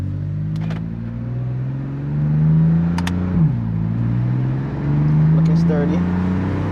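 A 480 whp BMW F80 M3 exhaust on back roads, a steady low drone rising and easing as the car accelerates, heard from inside the cabin with a few faint clicks.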